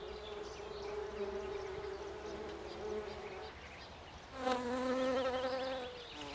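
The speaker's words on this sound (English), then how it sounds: "the honeybees are hard at work in the meadows." Honeybees buzzing among wildflowers in a Carpathian meadow, a steady hum of several insects that swells louder and denser toward the end as a bee passes close.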